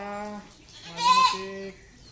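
A goat bleats in a long, wavering cry that swells louder and harsher in the middle before easing off, heard close with no talking.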